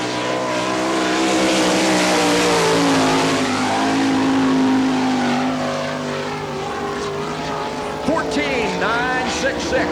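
Sprint car number 1M runs a qualifying lap at the Barberville, Florida speedway, its engine roaring loudly and wavering in pitch as it laps, with crowd and track noise behind and a few brief squeals near the end.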